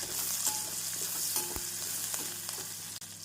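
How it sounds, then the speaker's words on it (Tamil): Steady sizzling of onion and garlic sautéing in a hot pan, with occasional light scrapes and taps of stirring throughout. "நாம் பூண்டு சேர்த்து நன்றாக வதக்க வேண்டும்"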